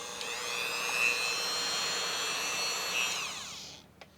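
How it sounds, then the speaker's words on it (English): A Dremel with a cutting bit slices through a Tamiya Mini 4WD propeller shaft, giving a close, steady high-pitched grinding whine that holds for several seconds before stopping, with no talking. "Now we're gonna go ahead and cut. Make sure you use the Dremel cutting bit."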